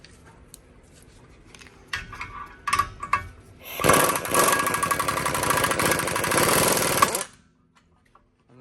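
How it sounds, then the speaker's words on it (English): A ball joint separator works on a BMW E30 sedan, first with a few sharp knocks and clanks, then a loud, sustained grinding rattle of about three seconds that cuts off abruptly and leaves near silence. "using a ball joint separator"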